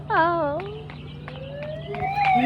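An ambulance siren wails nearby, its loud tones sweeping up and down in long glides and swelling again toward the end, with a voice briefly audible over it.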